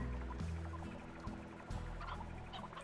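Clucking hens in the farming game Slime Rancher, a busy cluster of fowl-like calls over steady low game music, moderately loud and continuous with no talking.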